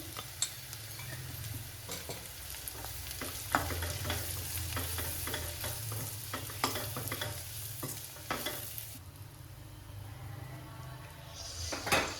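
Ground peanut and green chilli paste frying in a pan over a low flame while being stirred, a close sizzle broken by repeated scraping and clinks of a spoon against the pan, the sizzle dropping off toward the end.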